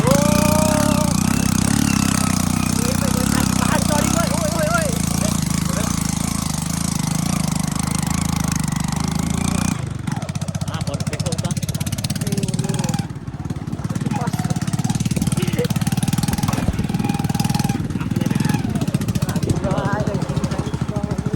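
A motorbike engine runs steadily close by on a village path near a mango grove, a constant low throbbing rumble that keeps going under intermittent talk, with the tone shifting slightly partway through.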